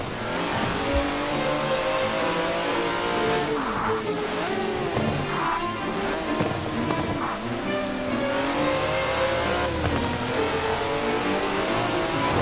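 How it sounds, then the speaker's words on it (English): A 1938 Auto Union V-16 racing car in Forza Horizon 4 revs loudly and continuously, its engine rising and falling through gear changes, with occasional tire squeal, up close and without talk. "That's a 90-year-old racing car."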